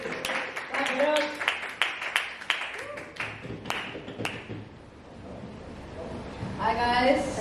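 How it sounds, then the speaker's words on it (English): A stand-up comedy audience claps and cheers for a comedian being introduced. The crowd applauds under a host's spoken introduction, rising again near the end as the next performer steps up. "please give it up for Cindy DeCastro. Cindy DeCastro. Clap it up."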